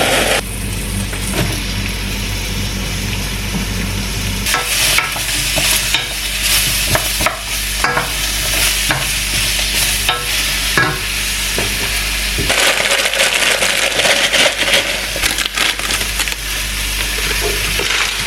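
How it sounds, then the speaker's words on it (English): Sliced pepper sizzles and crackles steadily in a hot wok as it is stir-fried, with scraping stirs breaking up a continuous frying hiss. "Basically all that's left to do is fry this up in a wok and add the sauce."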